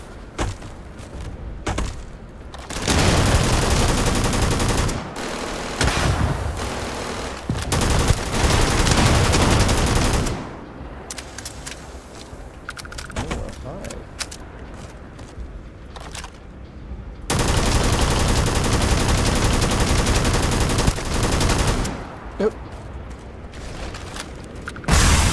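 Heavy automatic gunfire from the video game Starfield, in long sustained bursts of rapid shots with short quieter gaps between them, loud and dense with booming low thuds mixed in.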